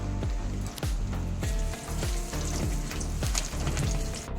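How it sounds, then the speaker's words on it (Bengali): Chopped garlic fries in hot oil with dried red chilli and black cumin, a steady close sizzle with rhythmic scraping strokes of stirring running through the whole stretch. "রসুনটা পুরো লাল করে ভেজে নিচ্ছি"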